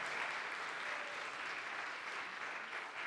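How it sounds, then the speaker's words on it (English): A church gathering audience applauds a speaker, a continuous wash of many hands clapping at even loudness, fairly soft and without voices. "We have a round of applause for that gentleman."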